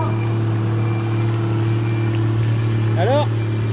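A tractor at a tractor pulling demonstration in Ranes, its engine holding a steady low drone with a brief rising rev near the end, heard over a crowd and a loudspeaker announcer.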